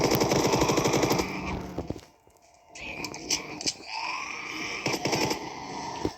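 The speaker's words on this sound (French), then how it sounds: "un minigun, regardez la vitesse qu'il tire" A minigun fires in a rapid, dense roar in a Roblox zombie game, breaking off briefly and then resuming with more bursts and clattering game effects.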